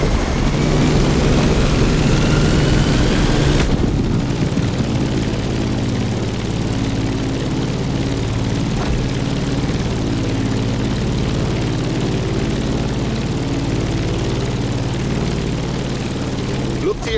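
A propeller airplane engine climbing in the racing game The Crew Motorfest, a loud, steady, low droning hum under a faint whoosh, with speech partly audible over it.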